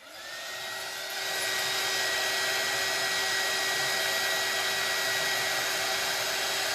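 A hair dryer blows steadily on an ice skate, a loud continuous whir that rises in strength after the first second and then holds level without a break.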